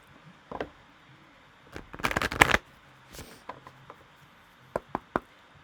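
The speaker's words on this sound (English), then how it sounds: "I'm going to shuffle these cards while I talk to you" Rune cards are shuffled by hand in a few quick, close riffling bursts, with scattered soft taps and clicks between them in a quiet room.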